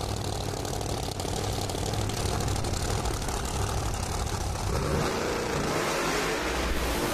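Chad Green's drag racing car at the 2018 NHRA Kansas Nationals, a loud, sustained engine roar from the launch down the strip that changes tone near the end as the car pulls away.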